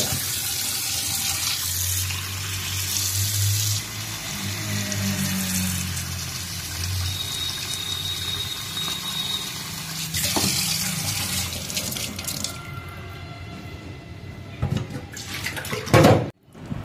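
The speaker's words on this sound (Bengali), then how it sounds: "চলো এখন মাছগুলো ধুয়ে নিই।" Tap water runs steadily into a sink while rohu fish are washed, a continuous near splashing that shifts in texture midway and ends with a few louder clatters; no talking.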